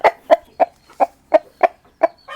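A bird clucks in a steady series of about eight short, sharp calls, close and loud, with brief gaps between them.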